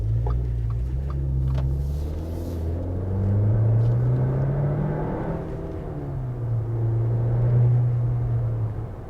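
An Audi A4 B8.5 S-Line engine drones and swells, revving up and settling back in long waves, heard from inside the car with a steady low rumble throughout.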